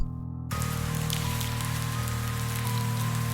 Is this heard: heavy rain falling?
yes